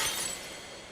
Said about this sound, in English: Glass breaking again.